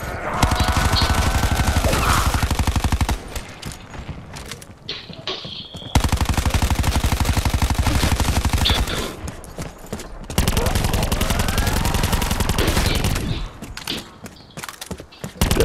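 Sustained automatic gunfire from a wall-bought gun in Black Ops 4 zombies, long rattling bursts broken by short pauses, loud and close, with game effects and talk in the gaps.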